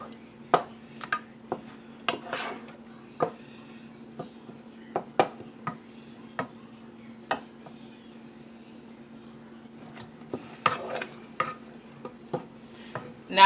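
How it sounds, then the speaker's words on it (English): Spoon scraping and knocking through salsa and rice in a cooking pot, a steady run of short irregular taps and clinks, close and fairly quiet, with a soft background hum and no talking. "we're going to give this a good stir"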